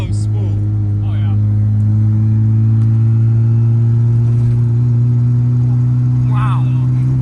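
A race car engine with a turbo spooling holds a loud, steady droning idle throughout, with brief whistling spool sounds rising above it; people talk over it.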